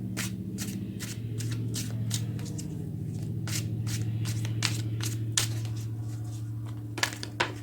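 Tarot cards are shuffled by hand in a rapid run of crisp riffling snaps over a low, steady hum.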